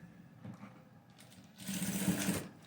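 Sewing machine stitching the side seam of a blouse, faint handling sounds and quiet mechanical ticks at first, then a short close burst of rapid stitching toward the end.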